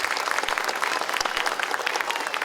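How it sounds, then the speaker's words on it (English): A crowd at a Wizard World comic convention hometown heroes ceremony breaks into dense, sustained applause, loud and steady throughout with no voices over it. "If you guys could give a hand of applause for inviting us here today."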